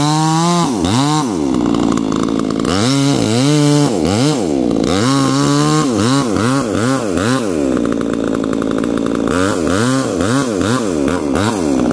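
A chainsaw cutting down trees runs loud and close, its engine repeatedly revving up and dropping back to idle in rising and falling surges over steady motor noise.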